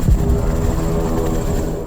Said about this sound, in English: hook it to a helicopter, which descends to as low as 8 feet off the ground during the operation